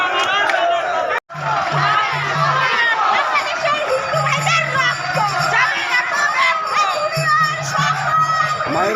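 A dense crowd at a Hindu Suraksha Mancha protest rally in Mathabhanga shouts and chants loudly and continuously, with many overlapping voices close by and a brief dropout near the start.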